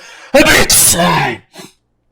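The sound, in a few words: sneeze from a speaker with flu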